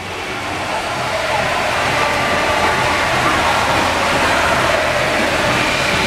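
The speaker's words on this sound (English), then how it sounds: "They just turned on all the waterfalls for him." Indoor pool waterfalls pour in a loud, continuous broadband rush of falling water that fills the whole stretch evenly and steadily, with no voices clearly heard.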